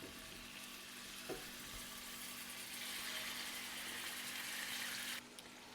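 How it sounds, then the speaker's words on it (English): Chicken pieces frying in hot oil in a skillet on medium heat, a continuous soft sizzle with a faint hum underneath that swells slightly before dropping away near the end. "we're going to add the chicken to our hot oil in the skillet"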